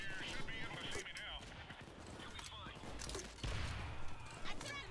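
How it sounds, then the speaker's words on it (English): Several explosions and heavy gunfire in Payday 2 during the Shacklethorne Auction heist, a loud dense barrage with a deeper boom landing midway. "Yep, that was like a double or triple explosion."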